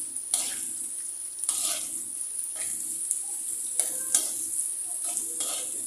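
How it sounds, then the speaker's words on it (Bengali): Onion and garlic fry in hot oil for a greens recipe, giving a soft continuous sizzle with a high hissing edge, punctuated by several quick scraping stirs of a spatula at uneven intervals, close and fairly quiet. "পেঁয়াজ রসুনগুলো আমি লাল করে ভেজে নিব"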